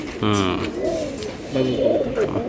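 Pigeons of Bangladeshi breeds such as Giribaz and Gola cooing close by in a cage or loft, two drawn-out throaty coos with a rising and falling warble, fairly loud against faint background noise.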